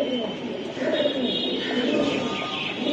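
Pigeons at a breeding farm coo in soft, rolling, repeated calls, close and continuous, mixed with someone talking over them.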